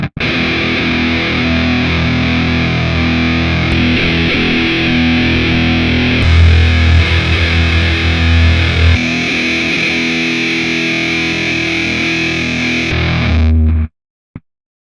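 Heavily fuzzed electric guitar chasing a classic album tone through plugin amp and cabinet simulations: a thick, sustained, saturated wall of chords that runs loud for about fourteen seconds, then cuts off abruptly.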